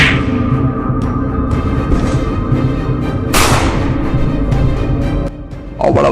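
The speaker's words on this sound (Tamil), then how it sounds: "துப்பாக்கி முழக்கம் கேட்டது." Gunshots ring out in a Western drama, several loud, sharp cracks with ringing tails spread unevenly across the stretch, one especially heavy blast in the middle, and no voices.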